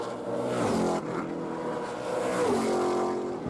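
Trans Am TA2 race cars, a Mustang against a Camaro, roar loudly on the Portland road course, engines revving hard and shifting through gears as they pass close by without a break.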